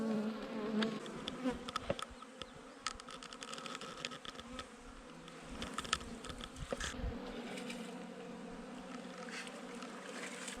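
Honey bees buzz around garden beehives, a continuous drone of many wings, close and fairly loud, with individual bees swelling past the mic and light clicks and knocks from handling the hives.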